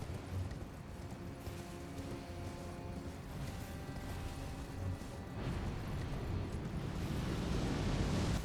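A golem's huge flame attack in the Elden Ring DLC, a sustained rumbling roar with heavy thuds and mechanical clanking, building louder toward the end, no talk.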